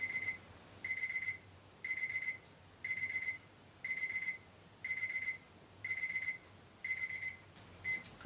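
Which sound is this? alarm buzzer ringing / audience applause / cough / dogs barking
alarm buzzer ringing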